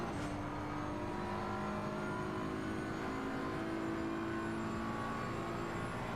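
A BMW GT3 race car in a sim racing game at Paul Ricard holds a steady, droning engine note with layered harmonics, continuous and fairly close for the whole stretch.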